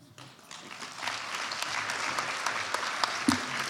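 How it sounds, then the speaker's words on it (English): An audience at an education convention breaks into sustained applause for speech-giving candidates, the clapping building quickly and holding steady and dense throughout. "Please give another round of applause to our candidates for coming up here and giving their speeches."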